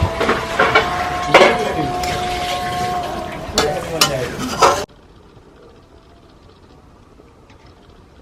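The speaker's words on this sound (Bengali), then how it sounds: "সেটা কাঁচা লঙ্কাগুলো দিয়ে দেবো" Green chilies go into a pan of sizzling Bengali prawn malai curry, with frying hiss, stirring scrapes and utensil knocks, loud and close for a few seconds before the sound drops away abruptly.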